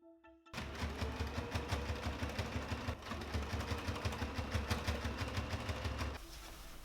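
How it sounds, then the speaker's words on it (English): A sewing machine runs steadily, stitching a sleeve onto a classic shirt, with a fast even mechanical clatter close by that starts abruptly and stops near the end, leaving faint room noise. "now let's sew the sleeve to the shirt"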